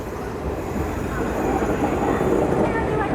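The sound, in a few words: Kolhapur–Nagpur Express train arriving at Badnera Junction station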